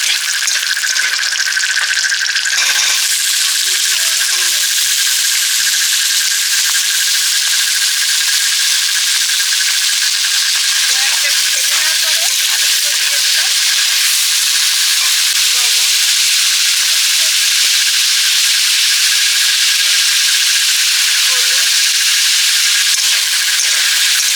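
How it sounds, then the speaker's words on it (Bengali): Steady, loud sizzling of potatoes and onion frying in hot oil throughout, with occasional faint clinks and soft background voices. "আলু ভাজা করবো পেঁয়াজ দিয়ে"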